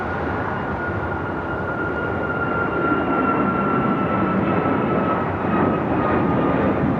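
An American Airlines Boeing 737 MAX 8 airliner takes off from the south side of LAX, a steady broadband engine roar with a faint high whine, holding loud and even throughout with no talk.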